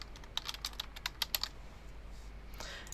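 Keys on a computer keyboard being typed in a quick burst of clicks in a quiet room, fading after about a second and a half into faint background noise.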